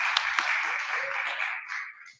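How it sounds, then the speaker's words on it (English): An audience at a local council election candidates' forum claps together in a dense, steady burst that holds for about two seconds, then thins and fades out. "so a big round of applause"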